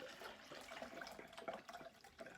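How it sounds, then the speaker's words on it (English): Water poured into a homemade fountain tube gives a faint, continuous splashing trickle with small gurgles, close but quiet, and nobody speaks. "I'm going to pour the water"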